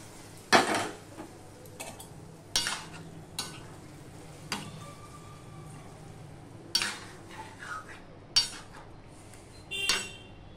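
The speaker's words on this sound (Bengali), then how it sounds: "এই যে মুগের ডালটা আমি সিদ্ধ করে রেখেছি সেটা আমি এর মধ্যে দিয়ে দিলাম" A spoon scrapes and knocks inside a cooking pot as boiled mung dal goes in, giving a few sharp metallic clinks spaced a second or two apart over a soft, quiet background hiss, with no talking.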